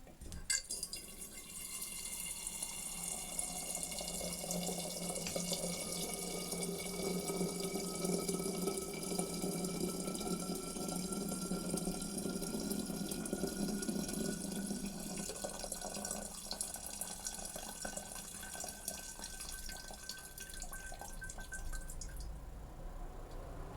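A liquid pours steadily into a glass flask for about twenty seconds, with a rising filling tone and trickling, as aqueous sodium iodide solution is set aside in a chemistry lab during an anisole synthesis.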